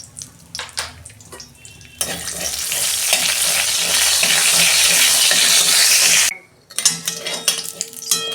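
Whole cinnamon, cardamom, cloves and cumin seeds hitting hot oil in a kadai while cooking a soybean dish, a loud steady sizzle that flares up and lasts several seconds, then cuts off, with clinks of utensils before and after.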